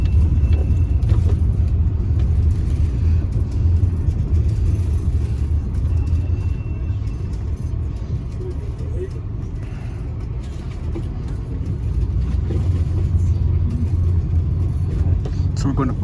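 A Rutgers campus bus drives along with a steady low engine rumble and road noise throughout, while a guide talks over it the whole time.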